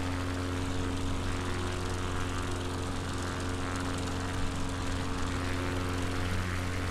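A light propeller aircraft flies over Balmoral Castle under low cloud, its engine drone steady and continuous throughout with a strong low tonal hum.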